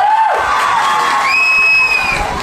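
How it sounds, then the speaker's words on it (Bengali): Concert crowd cheering and applauding at a live show, a loud sustained roar with whoops and clapping, a brief tone at the start and a whistle-like note rising over the din midway. "তো আরেকবার কি একটু হাততালি শুনতে পাবো কি?"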